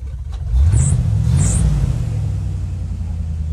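An old-looking fuel-injected 5.0 car engine cranks and catches, then revs with a loud, steady low rumble that rises and holds close by, with no talk over it.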